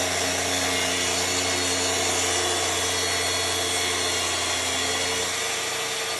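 A track saw plunge-cuts a wooden filler strip being scribed to a wall for euro-style cabinets, giving a continuous high whine with steady motor hum that holds loud and close for the whole stretch.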